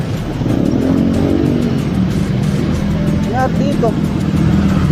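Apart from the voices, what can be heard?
road traffic, cars and motorcycles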